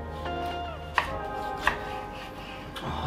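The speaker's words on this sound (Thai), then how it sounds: "เรากำลังจะหั่นมะนาวแล้วนะ" A knife chops a lime on a board with two or three crisp, separate strikes. The cuts sound close and clear, with a steady background hum behind them.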